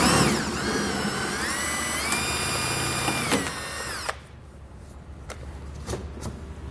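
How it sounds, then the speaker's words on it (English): A loud power drill with a 1/4-inch bit whines steadily for about four seconds drilling out a pop rivet on a car, then stops, leaving a quiet room with a few sharp clicks and taps. "So I'm going to take a 1/4 inch drill bit, drill through the center of it until it comes out."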